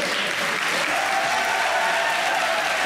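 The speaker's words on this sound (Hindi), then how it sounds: "वाह भाई वाह वाह, ताली होनी चाहिए भाई।" Steady applause from a studio audience on a Pakistani comedy talk show, dense continuous clapping at a fairly close range that holds evenly for about three seconds with no clear speech on top.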